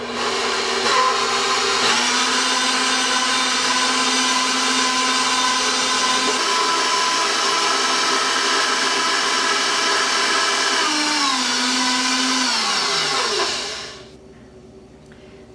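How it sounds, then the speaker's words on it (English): An electric mixer whips two cups of heavy cream in a mixing bowl, a loud steady motor whine that holds for about thirteen seconds, shifts pitch briefly, then winds down and stops. "in my mixing bowl I have 2 cups of heavy whipping cream. I'll mix this until it forms a soft peak"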